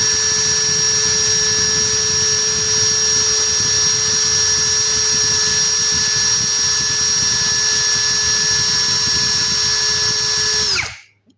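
A DeWalt DWE brushless impact drill runs continuously at full speed, sending out a loud, steady high whine with a constant pitch. Near the end it cuts off abruptly and winds down.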